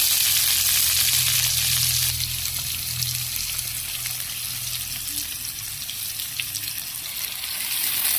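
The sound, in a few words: sautéing squash with tomato and garlic in a pan, stirring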